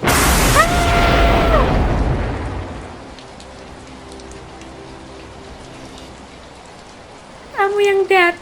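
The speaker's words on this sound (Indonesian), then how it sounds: "Ya ampun, kok hujan gini sih?" Rain falls steadily in an animated drama series, a soft continuous wash that is loud at first under a rumbling swell, then settles into a quieter patter, with a voice breaking in briefly at the end.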